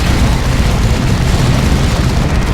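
Plasma cannon shots and explosions in the Dawn of War 2 battle between Space Marines and Tyranids make a loud, dense, low booming rumble that rolls on without break, with no voices.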